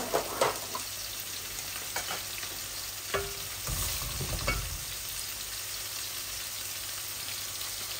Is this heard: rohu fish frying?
yes